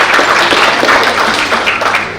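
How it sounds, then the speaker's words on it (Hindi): An auditorium audience breaks into loud, dense applause, a thick continuous wash of many hands clapping close by, lasting throughout. "एक बार जोरदार तालियां बजाकर अभिनंदन कर दीजिए"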